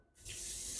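Hotel-bathroom bidet sprayer bursts on after a brief silence, a strong, steady hiss of water spray that keeps running loud and close.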